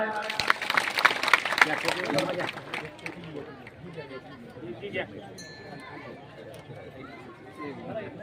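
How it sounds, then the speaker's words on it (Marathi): A gathered audience at a feast and food-donation event at Siddheshwar temple in Malegaon breaks into a burst of clapping that fades after a few seconds into murmuring crowd chatter. "एकदा जोरदार टाळ्या"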